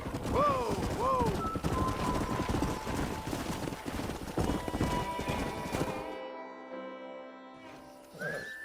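A horse in Red Dead Redemption gallops with rapid hoofbeats, neighing twice near the start, then the hooves stop and the scene turns quiet with faint tones.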